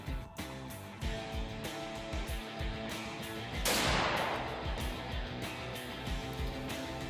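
Shotgun firing shells at pattern targets, loud sharp reports with one big blast and decaying rumble among other thumps and clicks outdoors.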